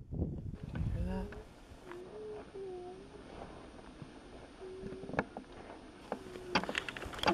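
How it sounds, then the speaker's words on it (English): A bird calls with short, tonal hooting notes, repeated several times at moderate distance on a hiking trail at Arrowhead Pinnacles, with a faint voice and rustling around it. "Do you hear the bird?"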